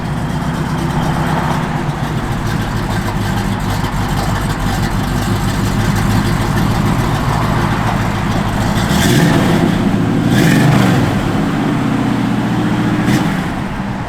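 A 1971 Chevrolet Nova SS idles in a steady, loud, low rumble, with a slight rise in engine note partway through and no talk over it.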